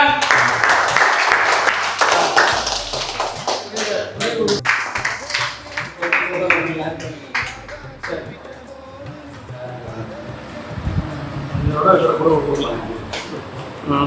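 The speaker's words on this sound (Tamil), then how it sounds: "ஜோரா கைதட்டுங்க." A church audience claps loudly for several seconds; the applause thins into scattered claps and taps with a few voices before swelling briefly again.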